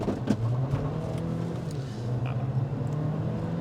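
A 2023 Haval Jolion S accelerates hard, its engine droning steadily and close with a low sustained hum that rises slightly through the pull, no talking over it.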